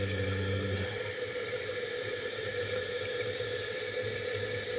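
Toilet tank refilling with water after a flush valve replacement, a steady continuous rush and hiss of inflow that runs loud and close throughout, with a low tonal hum fading out early on.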